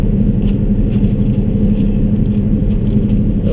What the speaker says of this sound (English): once I get off the curve, then you're going to see me accelerate, and I build up speed